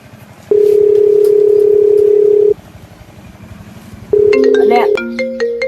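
A telephone dial tone sounds loud and steady for about two seconds, stops, then returns with a burst of higher dialing and ringing tones toward the end, over quiet background noise.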